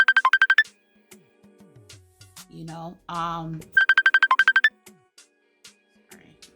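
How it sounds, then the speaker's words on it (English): A phone ringtone interrupts a makeup session in two bursts of rapid repeated electronic tones, loud and close, with someone speaking briefly between them. "getting phone calls in the middle of videos."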